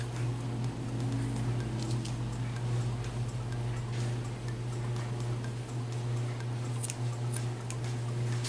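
Scissors snip through fabric scraps in a quiet room, soft irregular clicks and crisp cuts repeating over a steady low electrical hum.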